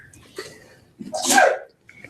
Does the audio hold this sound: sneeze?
yes